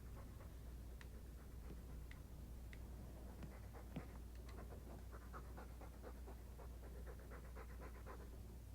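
A dog in Dragon Age II pants quietly and rhythmically, soft repeated breathy huffs over a low background hum, faint and close with no other sounds.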